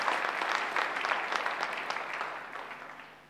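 An audience at the Steve Biko Memorial Lecture breaks into applause, a dense, steady clapping from a large hall crowd that gradually thins and fades over a few seconds.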